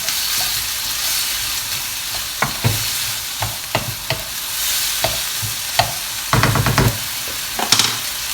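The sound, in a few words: mince and tomato being stirred and fried in a pan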